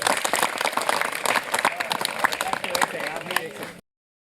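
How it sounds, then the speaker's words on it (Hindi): Children at a training camp in Mowgli Land, Amodagarh, Seoni clap loudly and rapidly in a dense, close burst that runs for nearly four seconds, with lively voices mixed in, then cuts off abruptly. "चलो जोरदार तालियां हो जाए बच्चों"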